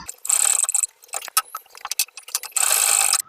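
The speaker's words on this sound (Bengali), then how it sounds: "বসিয়ে আমি এটাকে সেলাই করে নেব" A sewing machine stitches a kameez in two short whirring runs, with irregular clicks and knocks from the machine and the fabric being handled in between.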